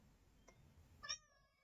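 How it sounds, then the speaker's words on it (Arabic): A Minecraft pet cat gives a short, clear meow, faint rustling before it and a brief trailing tone after, with no one talking. "دي القطة"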